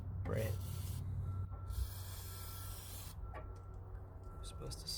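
Cleaner sprays in bursts from an aerosol can onto the throttle body of a Jeep Wrangler, a steady close hiss lasting over a second, then shorter spurts, with someone talking over it.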